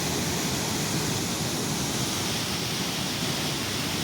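Water rushes through the Kallanai (Grand Anicut) dam, a loud, steady, broadband roar that stays constant with no voices over it.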